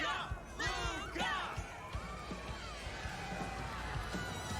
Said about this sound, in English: Ugh, the crowd never gets tired, do they?